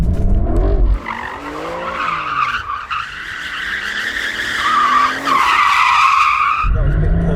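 Sports car cornering with understeer, tyres squealing loudly and wavering in pitch over the engine's roar, close and continuous before the engine surges again at the end.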